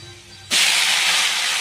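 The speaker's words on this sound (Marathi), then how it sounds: "लसूण लाल होऊ द्यायचं आहे छान फ्राय" Garlic hits hot oil in a pan with a sudden loud sizzle that holds as a steady, bright frying hiss.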